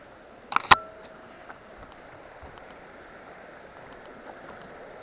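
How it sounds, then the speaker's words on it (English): A small creek flows along the Bartram Trail in the woods, a faint, steady broadband wash of running water throughout, with a couple of brief sharp clicks or knocks near the start. "Little creek here."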